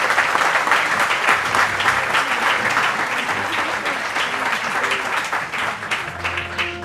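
A crowd applauds steadily at an outdoor groundbreaking ceremony, thick continuous clapping close and loud from start to finish with faint murmurs underneath.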